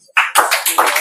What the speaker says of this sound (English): So make una clap for am.